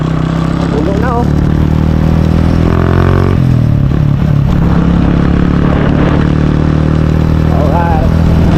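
A motorcycle engine drones steadily while riding along a long road, a continuous loud hum with shifts in pitch, beneath someone talking throughout.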